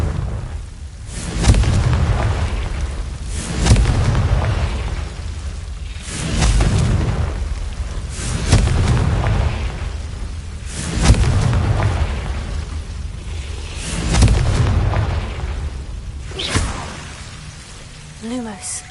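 Repeated Confringo fire-spell blasts in Hogwarts Legacy, six or seven booming explosions landing every two to three seconds with rumbling tails, heard alone without speech.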